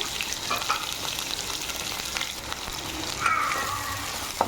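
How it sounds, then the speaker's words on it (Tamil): Two large, thinly sliced onions sauté for crab and raw banana masala, sizzling and crackling steadily in the pan with occasional stirring scrapes, close and without talk. "நல்லா வதக்கிக்கலாம். நல்லா இந்த மாதிரி வதக்கிக்கோங்க."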